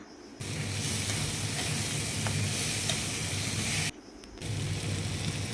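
Moong dal sizzles and crackles in a hot pan with a steady frying hiss, briefly quieting once before the sizzling resumes.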